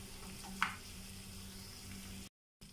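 Small onions sauté in hot oil with mustard seeds, cumin, garlic, chilli, dried red chillies and curry leaves, giving a soft steady sizzle with one sharp crackle, then a brief moment of silence near the end.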